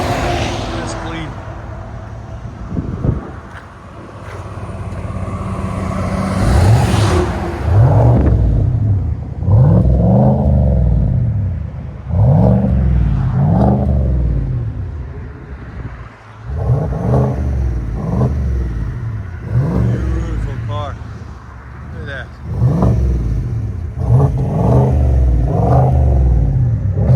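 2021 GMC Yukon Denali XL with a 6.2L V8 and muffler delete, repeated revs rising and falling in a regular series of deep throaty bursts, loud and close, with a person talking at the start.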